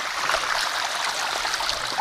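Mountain stream water flows and splashes steadily nearby, a continuous bright rushing and gurgling with no voices.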